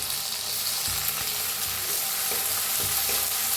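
Tomatoes with garlic and chili stir-frying in a pan give a loud, steady sizzle and hiss, broken by soft scraping and stirring noises, with no talking.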